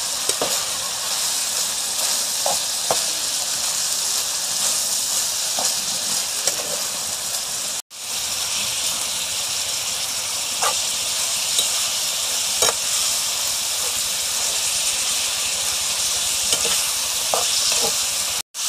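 Pork and kimchi stir-fried in a hot pan give a continuous loud sizzle and hiss, broken by occasional spatula scrapes and knocks. No one talks.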